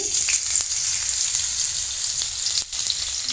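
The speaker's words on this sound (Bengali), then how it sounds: "তেলে দিচ্ছি কাঁচা লঙ্কা কুচি" Steady, loud sizzling of chopped green chillies frying in hot mustard oil in a wok, a continuous crackling hiss with a few small taps from a utensil.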